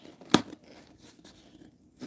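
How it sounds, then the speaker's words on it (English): Scissors cut open a well-sealed package of nail-stamping supplies with one sharp, close snip, followed by faint handling rustles in a quiet room. "I'm going to use my scissors to open the thing."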